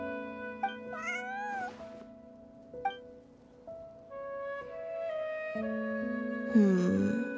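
A cat in Genshin Impact meows several times, short calls early on and a longer, louder wail at the end, over a soft steady musical backdrop.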